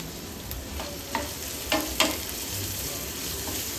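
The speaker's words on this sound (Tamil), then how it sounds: "கூடவே 3 பச்சை மிளகாவை இது கூட சேர்த்து நல்லா வதக்கி விட்டுக்கலாம்." Chopped shallots and three green chilies fry in hot oil in a pan for a pepper chicken gravy, giving a steady soft sizzle broken by a few sharp spatula scrapes as they are stirred, with no voices.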